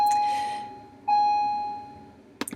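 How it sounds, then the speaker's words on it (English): A bell-like electronic chime rings out, a steady sustained tone that sounds, fades, then sounds again before a couple of brief clicks or taps at the end. "Oh, there's the bell."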